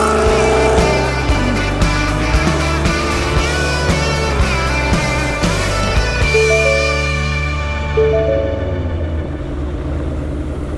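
A Ford Mustang GT engine pulls hard and close, its deep, loud roar climbing in pitch through a couple of gear changes before easing off, with no talking over it.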